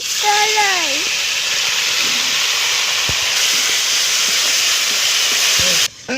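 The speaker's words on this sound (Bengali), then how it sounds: "মুগ ডালটা ভালো করে ভেজে নেব" Washed moong dal frying in oil with whole cumin, cinnamon, cardamom and bay leaf, a loud, steady sizzling hiss that runs throughout, with a voice speaking briefly over it at the start.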